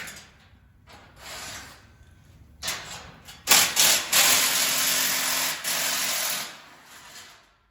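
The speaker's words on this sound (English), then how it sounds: "It's nice to have a cordless impact when you're doing this" Cordless impact wrench removing bolts from a Jasscol Spider 200X trike crate, short whirring bursts followed by a longer loud buzzing run, close by with gaps between.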